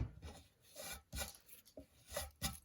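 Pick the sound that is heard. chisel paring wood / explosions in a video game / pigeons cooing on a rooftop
chisel paring wood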